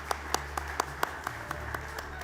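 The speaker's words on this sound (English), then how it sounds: "Round of applause for Pradeep Luthria." Sparse, scattered applause from a conference audience at a maritime safety event, with about ten faint, separated claps over a low background hum, distant and quiet rather than a full ovation.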